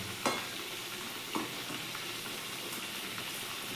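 Meat and potatoes frying in a pan, a steady crackling sizzle with two sharper stirring scrapes near the start, close and continuous with no talk.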